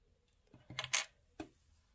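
Chalk or marker drawn across folded fabric to mark a seam allowance on tracksuit trouser cuffs for attaching ribbing, a few short close scratchy strokes in a quiet room.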